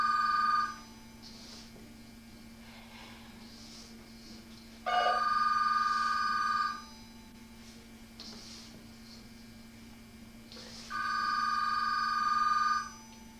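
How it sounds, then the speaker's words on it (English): A telephone rings in a home kitchen during pasta making, three long trilling bursts about six seconds apart, fairly close and clear over a faint steady hum, with nobody answering. "I'm going to let that phone ring because I can't answer the phone now."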